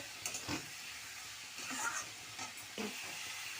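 Onion paste fries in a pan with ginger, tomato and chilli, giving a soft, continuous sizzle and crackle at low level with slight surges as it is stirred.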